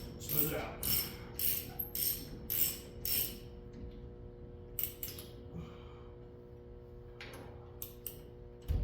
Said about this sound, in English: I'm gonna have to probably snap the socket in there, smooth it out